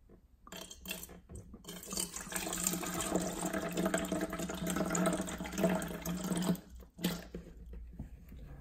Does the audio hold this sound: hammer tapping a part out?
no